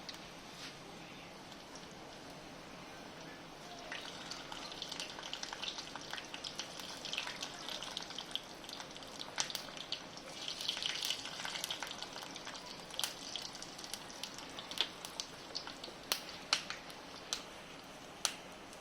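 White mustard seeds sizzle in hot oil while tempering for a fish and Ceylon spinach dish. A steady crackle rises into a dense spatter of sharp pops that grows busier and louder over time.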